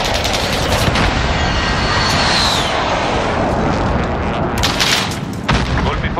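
Air strike explosions pound continuously in the Warzone video game, a loud dense wall of booms mixed with aircraft roar and gunfire, with in-game voice lines faintly underneath.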